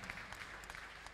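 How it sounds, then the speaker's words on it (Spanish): Applause from an audience at a Peronist political speech in San Vicente, Buenos Aires province, a brief steady wash of clapping at moderate level with no clear talk over it. "un fuerte aplauso para ellas"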